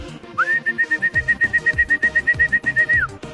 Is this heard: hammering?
no